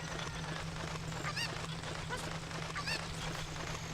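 A cucco chicken in Ocarina of Time gives two brief, chirpy clucks a second and a half apart, small against a constant wash of game background sound.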